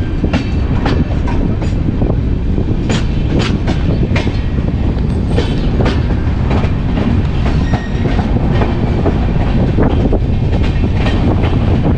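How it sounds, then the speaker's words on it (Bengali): The Jammu Tawi–Kolkata Express rolls through a station with a loud, continuous heavy rumble and a rapid, rhythmic clickety-clack of wheels over rail joints, heard close throughout. "ট্রেন এখন পার হচ্ছে থিলার স্টেশন"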